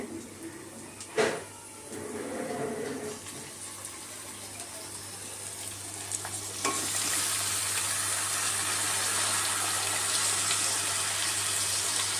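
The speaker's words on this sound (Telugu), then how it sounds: "ఇప్పుడు చికెన్ వేసేసుకుందాము చికెన్ వేసేసుకుందామండి" Chicken added to onions frying in a pan: a thud and rustle as the pieces go in, then a loud, steady hiss of sizzling that builds and holds for several seconds, with no talking.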